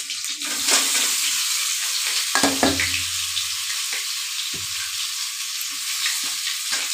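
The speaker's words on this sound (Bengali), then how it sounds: "এখন আমি আলু দমটা একটুখানি ফ্রাই করে আলুমু" Potatoes for aloo dum fry in hot oil with a dense, steady sizzle, broken by a few louder stirring scrapes and clatters near the start.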